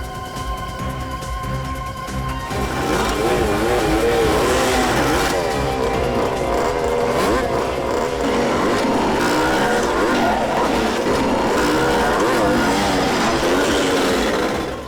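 Motorbikes from a biker gang ride up and rev on a road in a crime drama, a loud, continuous engine roar that rises and falls in pitch after a quieter opening couple of seconds.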